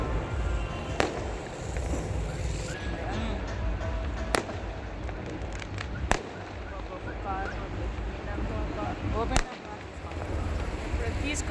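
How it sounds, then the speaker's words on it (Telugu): Firecrackers bursting at night outdoors, several sharp cracks spread across the clip against a busy background, with people talking nearby. "చూడండి, అక్కడ బాంబులు పేలుస్తున్నారు."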